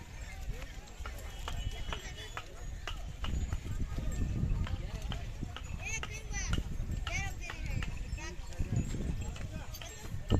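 Bullocks' hooves clopping on hard ground as they walk past at a cattle market, an irregular beat of many steps over crowd noise and voices talking.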